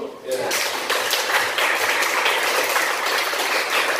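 Audience applause at a lecture event in Korea, with dense, continuous clapping from a room full of people that begins abruptly and holds steady for several seconds.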